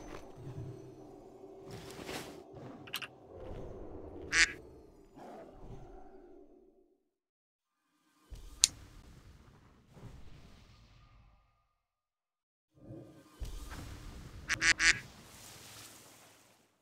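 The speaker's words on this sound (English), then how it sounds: "when you hear the sound of the duck, please do pay attention to the chat" Several short duck quacks ring out from World of Warcraft (Turtle WoW) as a loot alert, spaced across the stretch with quiet gaps between bursts, mixed with game sounds.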